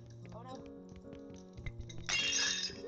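Glass breaking in Untitled Goose Game: a sharp, bright shatter with clinking shards bursts out near the end, following light clinks over a plucky musical backing and some talk.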